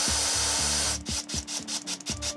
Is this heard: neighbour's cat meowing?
no